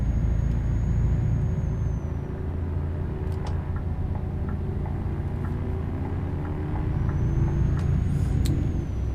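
In a trucking video game, a heavily modded truck's engine drones low and heavy near redline, a sustained loud rumble with faint high whines and brief clicks over it and no talk.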